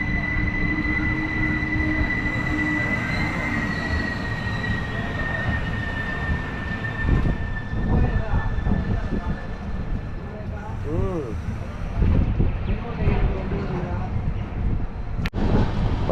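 Aboard the Tambaram–Senkottai superfast express, the train rumbles steadily while a long high wheel squeal rings for several seconds, then fades. Clanks and rattles follow as it slows and picks up speed again, and voices are heard faintly in the carriage.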